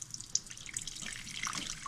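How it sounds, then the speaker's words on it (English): Hot rendered duck tallow pours through a strainer into a glass Pyrex dish, a soft continuous trickle with small drips and splashes, close and alone. "Let all of that tallow or grease just strain off of those little chunks of fat."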